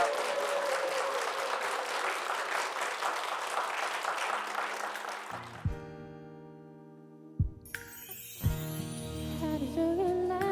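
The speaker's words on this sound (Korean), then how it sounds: "여러분 뜨거운 박수 부탁드릴게요." A studio audience on a Korean TV talk show applauds an acoustic duo's performance; dense clapping fills the first half, then gives way to a quiet pause and the start of soft instrumental music.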